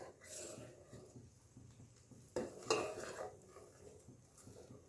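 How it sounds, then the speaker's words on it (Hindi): A spoon stirs melting butter in a pan over a gas flame to make ghee. Soft scraping is heard with a couple of faint metallic clinks, quiet and close. "तो इसको चमचे से चलाते रहेंगे थोड़ी देर के लिए, जब तक इसका पूरी तरह से मेल्ट नहीं हो जाता है मक्खन।"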